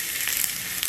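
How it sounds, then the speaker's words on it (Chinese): Pork belly sizzles loudly as it is stir-fried in a pot for a pork-rib and pickled-cabbage stew, a dense, continuous close-up hiss. "把这个五花给它下煸"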